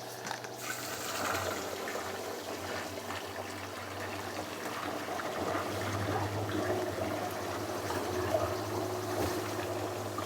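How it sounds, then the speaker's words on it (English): Hot water from a hose runs steadily into a container to mix sugar syrup for bees, a continuous rushing, bubbling pour with a low hum underneath and no talking. "I can just run a hose and pour hot water right in."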